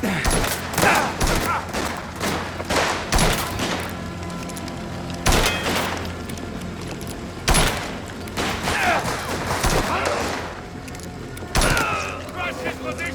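Rapid bursts of gunfire from the Mafia: The Old Country video game, several sharp volleys spread across the scene with a steady backdrop between them, mixed with shouted speech.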